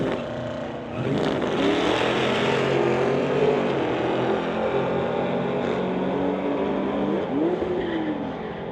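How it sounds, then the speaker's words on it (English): Street legal drag cars, a Chevelle against an Audi, launch and accelerate hard with a loud, sustained engine roar and rising revs, heard close and continuous for several seconds with no talk over it. "BMW taking over the Chevelle versus an Audi coming up next here."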